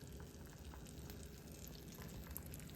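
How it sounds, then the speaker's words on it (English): A new frying pan sizzles with a steady, broad hiss at low level, continuous and unbroken, with no talking over it. "Listen to it sizzle."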